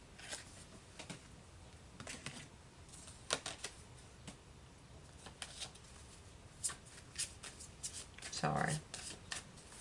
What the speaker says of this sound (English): I bobbled with the cards there for a minute.